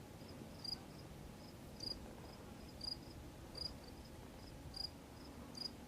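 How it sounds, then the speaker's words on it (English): Regular bursts of high cricket chirps, about one every second, over a steady low outdoor hum on the Appalachian Trail in New Jersey. No voices. "You can hear the crickets."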